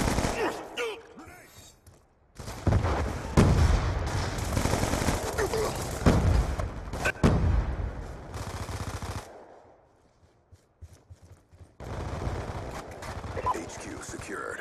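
Rapid automatic gunfire bursts in Call of Duty Black Ops 2 multiplayer, loud clattering volleys repeated across the stretch with a brief quiet gap, game voice callouts mixed in.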